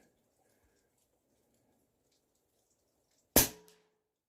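A single sharp crack comes from a shot of an Air Venturi Avenger Woodstock .22 PCP air rifle during target shooting, followed by a short decay and a faint later tick after near silence.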